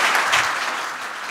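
A forum audience on education assessment gives brief, close applause to the panel speakers, as a dense wash of clapping that starts strong and then eases off slightly.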